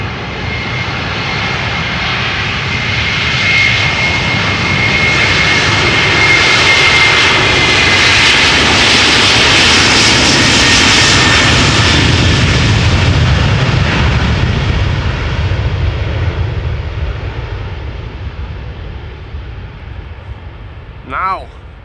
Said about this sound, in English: So this is Delta Airlines flight 47. It is another A330-300 destination New York JFK.